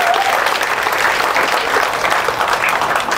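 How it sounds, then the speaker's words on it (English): Comedy club audience applauding during a crowd-work stand-up set, a dense steady wash of many hands clapping loudly throughout with no break. "Round of applause for them."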